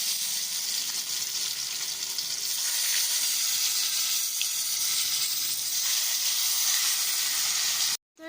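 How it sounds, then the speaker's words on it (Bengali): Eggs fry slowly in oil with a steady, close sizzle and soft hiss that runs unbroken through the whole pan, ending in a sudden cut at the close. "এটা আমরা ডিমগুলো আস্তে আস্তে দিয়ে ভেজে নেব।"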